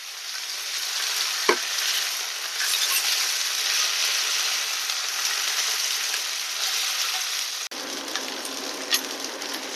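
Beef pieces for barbecue sizzle steadily in a hot pan while being pressed down, a dense continuous frying hiss with a few brief knocks, close and loud with no talking.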